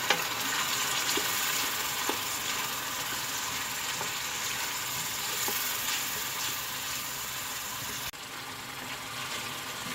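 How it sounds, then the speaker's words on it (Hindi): Masala with tomatoes frying in a pan, a steady broadband sizzle with occasional faint clinks and stirring, continuous and fairly even throughout, with a slight drop near the end. "टमाटर, ये सब चीज़ें डाल के हम अच्छी तरह मसाला भून लेंगे"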